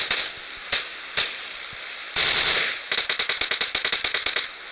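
Rapid bursts of PUBG Mobile gunfire crackle in quick succession, with a sustained hissing blast in the middle and a steady background rumble.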